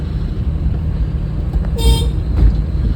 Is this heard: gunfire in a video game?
no